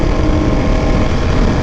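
A Ducati Panigale V4R motorcycle engine running on a new tune, a loud, dense, steady roar held close for a short stretch with no break.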